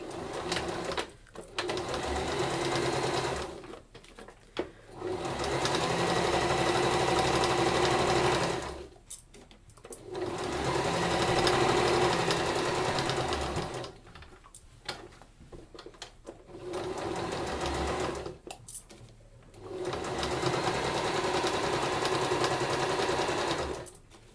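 A sewing machine top stitches the fabric edges of a dog bandana. Its steady, close whirring runs in several long bursts, with short pauses between them.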